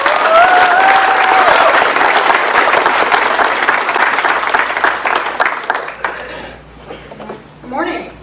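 A church congregation at a Baptist church applauding, loud dense clapping from many hands that fades after about six seconds into quieter room noise with a few murmurs and shuffles.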